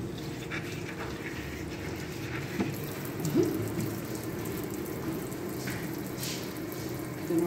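A tap runs steadily, water streaming into a sink with a constant splashing hiss and a few faint clinks, no talking.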